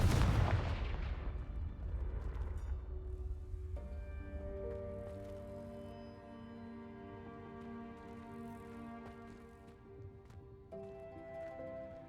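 Confringo blasting spell erupts in the Hogwarts Legacy video game, a loud booming burst at the start that rolls off into a long decaying rumble beneath sustained musical tones, with no talking.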